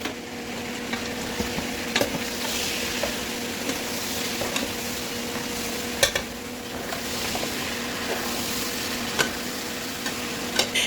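Onion halves cooking in several pots for a home Tabaski meal, a steady sizzle and bubbling hiss with occasional light clinks and stirring knocks, continuous and close.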